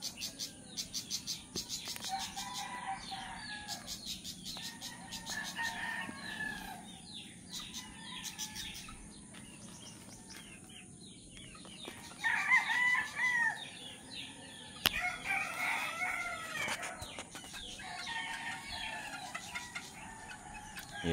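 Gamefowl roosters, a Raptor Sweater and a Gilmore Hatch, crowing repeatedly in a breeding pen at GPMJ Farm on a morning, with overlapping calls from near and farther birds, clucks and a steady insect chirr in the background.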